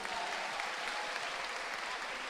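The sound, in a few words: church congregation applauding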